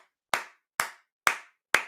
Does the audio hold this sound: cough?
no